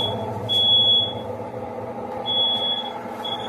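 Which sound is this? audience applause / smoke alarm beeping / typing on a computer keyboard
smoke alarm beeping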